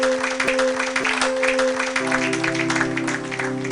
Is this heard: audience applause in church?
yes